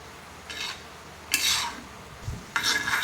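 Cashews and raisins frying in ghee in a pan, heard as a few short scraping, stirring bursts against the metal with faint sizzle between them.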